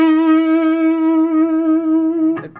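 A loud, sustained electric guitar note through a Supro Black Magick 25W amp with vibrato, holding steady with a gentle pulsing waver before a short burst of noise ends it.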